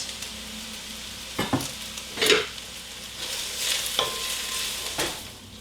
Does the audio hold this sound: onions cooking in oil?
yes